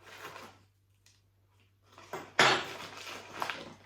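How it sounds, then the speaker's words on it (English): A spoon clinks and scrapes against a bowl while yeast, olive oil, water and sugar are stirred together, in short irregular bursts separated by quiet gaps, with one sharper knock partway through. "And you're going to give that a good stir."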